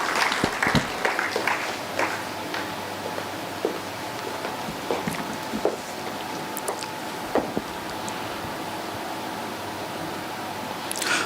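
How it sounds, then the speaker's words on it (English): Steady applause from an audience at a round-table event on higher education, a broad wash of clapping with a few louder claps standing out. "Can we have a round of applause for sir,"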